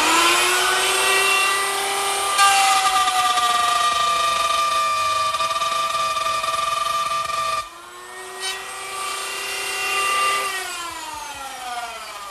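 A router with a 3/8 inch bit cuts a stopped mortise in a chest leg, a loud, high, steady motor whine that dips in pitch as it bites, drops out briefly and then spins back up.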